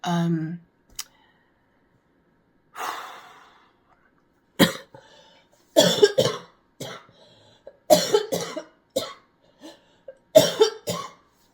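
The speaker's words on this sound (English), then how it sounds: "I haven't been able to get over this cough very well" Several harsh coughs in bursts, close and fairly loud, separated by quiet pauses, with a brief voice at the start.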